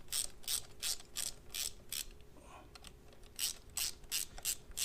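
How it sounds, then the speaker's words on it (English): A ratchet cranks down the clutch bolts on a Harley, giving close, loud bursts of metallic pawl clicking in a steady rhythm with a short pause midway, no voices. "And then now just gotta crank them down."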